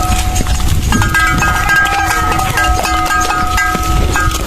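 Cattle at a livestock contest, with clanking bells and animal movement amid a busy, noisy crowd, people talking loudly nearby throughout.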